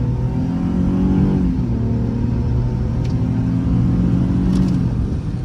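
A Ford Explorer Sport Trac accelerates to 50 with a loud, steady engine drone heard from inside the cabin, its pitch rising, dipping at a gear change, then climbing again under a constant road rumble.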